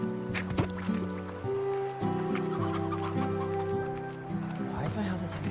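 Roosters cluck in the video game Slime Rancher, a run of short clucks heard over looping game music, with a person talking throughout.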